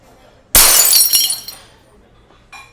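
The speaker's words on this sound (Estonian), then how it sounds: "Ja klaas kukkus maha." A glass drops and shatters in a café with a loud sudden crash, followed by a short spray of tinkling shards and one small clink a moment later.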